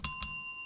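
A show host rings a small bell on a radio car-talk program, giving two quick bright dings that leave a clear ringing tone fading out, heard alone.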